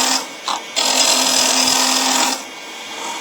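Wood lathe turning a wooden vase with a tool cutting in small bites, a loud high whine and scraping hiss that rises after a few short touches, holds steadily, then drops back to a quieter spinning hum.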